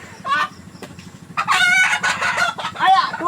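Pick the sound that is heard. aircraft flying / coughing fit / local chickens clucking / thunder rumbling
local chickens clucking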